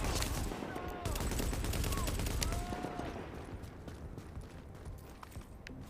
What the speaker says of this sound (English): And these gunshots don't attract friendlies.